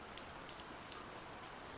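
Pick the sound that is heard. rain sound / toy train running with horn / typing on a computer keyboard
rain sound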